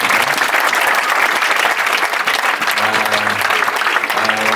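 Audience applause for a choir at a church gathering, dense and steady throughout, filling the hall at close range with no pauses.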